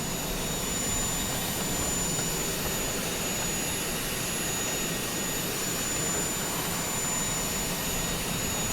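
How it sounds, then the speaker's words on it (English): Twin jet engines of an Embraer Phenom 100 in Microsoft Flight Simulator, a steady loud broadband roar with a faint high whine running unbroken and close throughout, no voices over it. "Idle taxi lights, and just shut the engines down."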